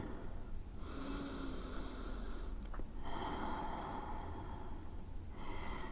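Slow, soft breathing during a gentle yoga flow, a quiet drawn-out inhale and exhale heard close and alone against a faint hushed background.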